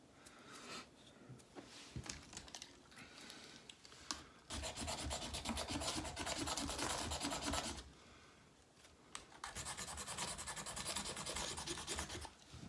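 A ferro rod is scraped repeatedly in the cold without catching, bursts of harsh rasping strokes of a few seconds each separated by quieter pauses, close and fairly faint, with no talk.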